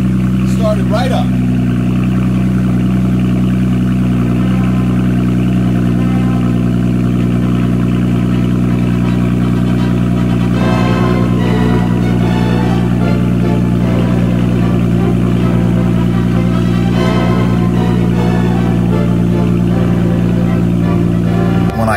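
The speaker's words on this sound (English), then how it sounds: "When I started the car," A Lotus Evora with a Toyota 2GR-FE V6 idles steadily after starting, a constant low engine hum with a few faint blips, and someone talks over it throughout.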